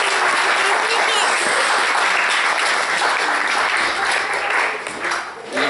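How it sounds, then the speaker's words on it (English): Audience applause fills the chapel at a Hmong Alliance church talent show, a dense, steady roar of many hands clapping that holds for several seconds before thinning slightly near the end. "please give them a round of applause too"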